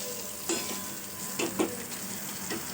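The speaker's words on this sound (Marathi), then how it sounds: "मसाला असा छान असा परतून घ्यायचा बघा असा आपल्या चमच्याने तो असा मॅश केल्यासारखा करायचा" Masala sautéing in a pan, with a soft steady sizzle broken by a few sharp clinks and scrapes as a spoon mashes it, close and fairly quiet, no talking.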